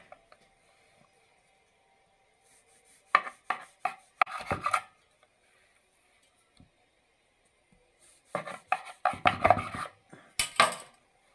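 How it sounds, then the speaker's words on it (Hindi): A knife cuts through a black forest cake on a hard surface in two bursts of scraping, tapping strokes with a quiet pause between them, close and fairly soft, with no voices. "ये देखें मैंने इसकी कटिंग कर दी है और आपने इस तरीके से इसकी कटिंग करनी है"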